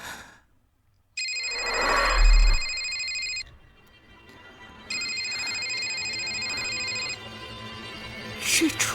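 A telephone rings in a house during an elderly man's 70th birthday banquet: two sustained electronic ringing bursts separated by a short pause, with faint rustling and a sigh around them.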